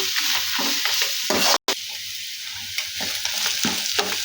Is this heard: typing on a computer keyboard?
no